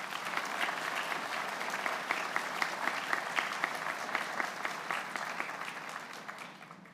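A crowd at the 2024 Union High School graduation ceremony applauds steadily for several seconds, a dense, even patter of many hands that tapers off slightly at the end.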